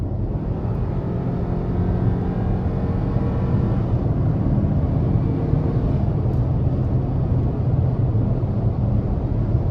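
2023 Hyundai Tucson N Line with its 2.5 engine pulling under acceleration, a steady, loud, close low rumble blended with road and wind noise inside the cabin.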